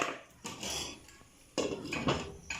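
A lid goes onto a pot of mackerel and vegetable jollof rice with two quiet metallic clatters about a second apart, each followed by a brief rattle.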